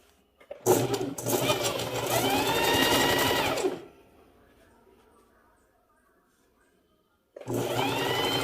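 A sewing machine stitches elastic onto fabric in a continuous fast whirring run of about three seconds, stops, then starts again after a pause, with someone speaking nearby.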